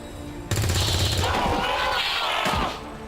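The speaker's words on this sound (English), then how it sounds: "this is too good a shot not to take" A soldier fires a shot in XCOM 2: a sudden loud blast cuts in, followed by a rumbling, crackling impact tail that fades within a few seconds, with no voice over it.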